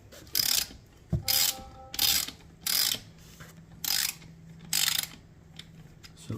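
A ratcheting wrench clicks in about six short bursts at an even pace, tightening the motor mount bolts on a Priority Current e-bike, close and clear with no talking.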